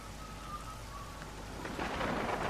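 Rain falling in the video game Goose Goose Duck, a quiet steady hiss of drops with a faint rumble, swelling slightly toward the end, no voices.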